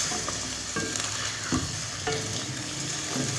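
Balochi tikka fries in a karahi with a steady, close sizzle, broken by a few soft scrapes of stirring.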